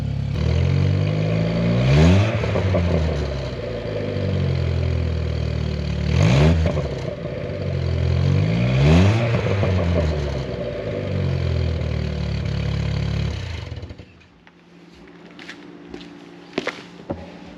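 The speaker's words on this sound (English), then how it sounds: "let me give you guys a couple revs as the car currently is, which is very, very loud" Mk2 Jetta engine revved hard three times through a very loud homemade exhaust, each rise and fall of pitch clear and close, then settling to a rough idle with a few sharp pops at the end.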